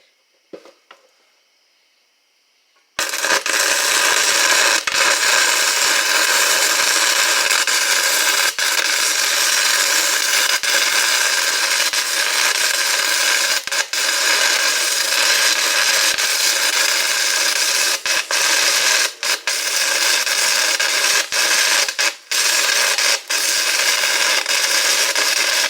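A power grinder starts after a few quiet seconds with small handling knocks, then runs loud and continuous as it grinds metal, with only brief dips in pressure and no speech.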